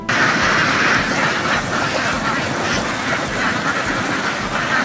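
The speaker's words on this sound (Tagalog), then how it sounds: "makikita ang mga pato na sabay-sabay na lumalangoy" A large flock of ducks swimming in a rice paddy quacks constantly and loudly, a dense overlapping chorus with no pauses and no voices.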